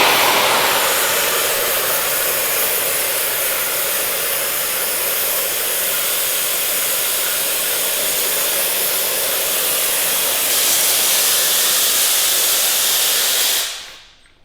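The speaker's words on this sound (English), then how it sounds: "That's basically a nozzle with a bag, and you just turn it on and make dry ice." A CO2 tank with a dip tube feeds a nozzle and bag to make dry ice, giving a loud, steady rushing hiss that runs unbroken for about fourteen seconds before cutting off abruptly.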